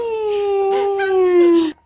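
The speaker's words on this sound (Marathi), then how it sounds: "पिल्लू हे" A puppy whimpers close by in one long, loud, wavering whine that slowly drops in pitch before cutting off abruptly, with no talking.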